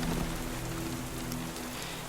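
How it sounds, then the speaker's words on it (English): Steady rain falls in the survival game Cataclysm: Dark Days Ahead, a continuous even hiss that holds throughout alongside a low droning tone, with no one talking. "now it's raining."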